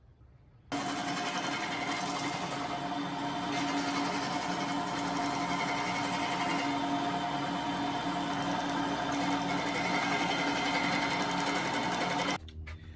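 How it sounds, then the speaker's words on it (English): A disc sander rounds and cleans up the edges of a rain shield for a camper van window, a loud, steady motor whine that starts abruptly, runs continuously for about twelve seconds, then cuts off. "I'm going to go hit it with a disc sander."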